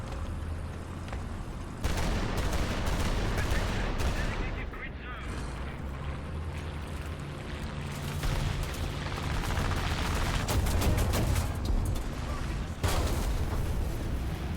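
Sustained anti-aircraft gunfire aimed at enemy planes in War Thunder, a loud, dense barrage of rapid shots and booming blasts that carries on without letup, with a voice talking over it.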